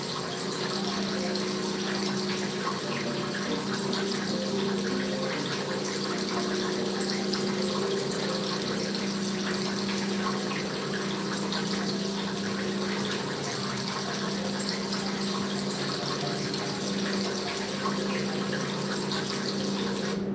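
Water trickles continuously in an aquarium display tank, a steady, even splash with a low pump-like hum beneath it, moderately close and unchanging throughout.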